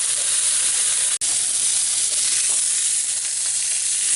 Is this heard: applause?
no